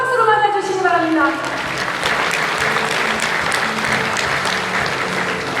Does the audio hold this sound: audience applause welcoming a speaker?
yes